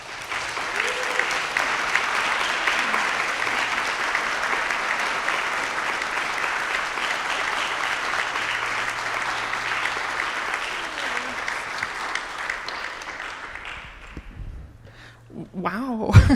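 Sustained audience applause welcoming the artist Andrea Carlson to an artist talk, loud and even for about fourteen seconds before fading into a few brief sounds.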